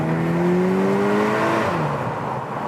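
A 2023 VW T-Roc R's 300 hp engine and Akrapovic exhaust in race mode inside a tunnel, a steady loud engine drone with rising harmonic tones as it revs, then easing slightly near the end.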